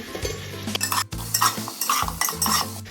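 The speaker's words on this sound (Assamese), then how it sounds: "আৰু 5 মিনিট ল' ফ্লেমত ভাজিম।" Potatoes frying in a pan on a low flame with a soft sizzle, while a utensil stirs and scrapes against the metal in repeated strokes.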